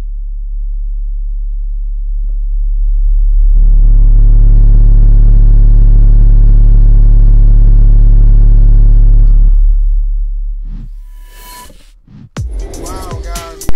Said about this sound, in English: for an 8-inch sub, a single 8-inch subwoofer to get that loud from the trunk of a car